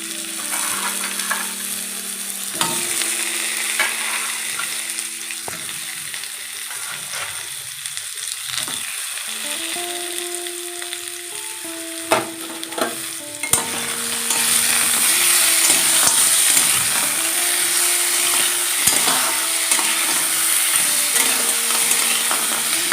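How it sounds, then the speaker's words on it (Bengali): Crabs fry together with raw papaya in a kadai for a crab jhal, giving a steady, close sizzle with intermittent scraping stirs and clinks throughout, with no talking. "পেঁপে অনেকটাই ভাজা হয়ে গেছে, ওর সাথেই আমি কাঁকড়াগুলো ভেজে নেব"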